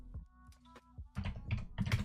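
Rapid keystrokes on a computer keyboard, close and clear, with irregular clicks and thunks building into a denser burst of typing.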